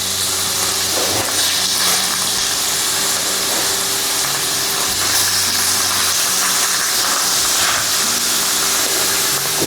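Grated bottle gourd, squeezed of its water, fries in ghee in a pan, giving a steady broadband sizzle and hiss that runs unbroken at a constant level, with no talk over it.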